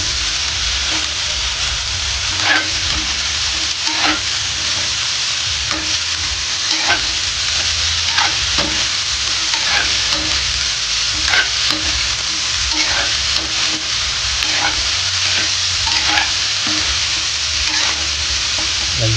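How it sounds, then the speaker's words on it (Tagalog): Radish and carrots stir-fry in a hot pan, a steady loud sizzle running throughout with periodic scraping stirs roughly every second or two, no voices. "Ngayon po ay ilalagay na po natin yung radish and carrots."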